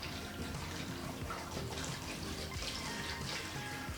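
Tap water runs steadily into a bowl to fill it for rinsing prawns, a faint, even rushing and splashing that continues throughout without any talk.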